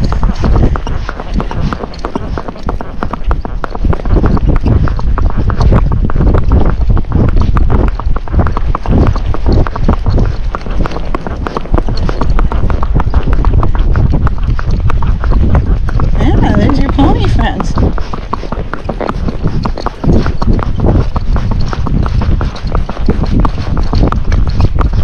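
A Fox Trotter horse being ridden in gait down a road, its hooves beating in a steady, quick clip-clop rhythm close to the microphone throughout, with wind buffeting the mic.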